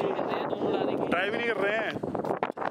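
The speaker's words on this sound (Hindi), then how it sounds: "बहुत ही तगड़ी हवा चल रही है यहाँ पे" Strong wind blows through the high mountain village of Kaza in Spiti Valley, buffeting the microphone in rough gusts while someone talks over it.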